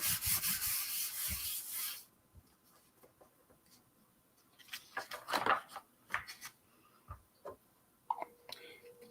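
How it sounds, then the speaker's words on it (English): Folded paper confetti rubbed together in a strong, steady scrubbing burst for the first two seconds, then softer scattered rustles and taps follow. "Fold it. Rub, rub, rub."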